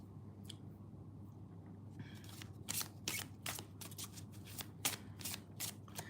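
Amira's Love Oracle cards being shuffled by hand close up, a quiet start followed by a run of crisp riffling bursts and flicks in uneven rhythm.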